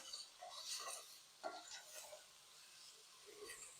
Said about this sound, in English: I'm going to stir the seasoning in right now